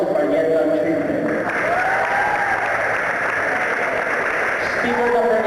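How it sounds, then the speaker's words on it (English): Crowd applause and cheering for a contestant at a school English oratorical contest, dense and steady throughout, with voices and shouts mixed in. "please give a round of applause to Marietta Trinity"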